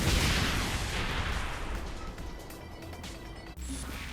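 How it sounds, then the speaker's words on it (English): A normal explosion in the video game Saints Row 4, opening with a loud blast that rolls into a decaying rumble and scattered debris crashes, ending in a sharp thud. "This is what a normal explosion looks like with the cheat off."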